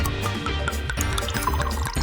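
Animated bathwater pours steadily into a tub, a continuous liquid splash with dripping and trickling detail running loud and alone for the whole stretch.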